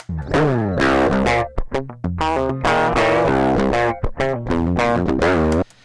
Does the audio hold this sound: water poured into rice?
no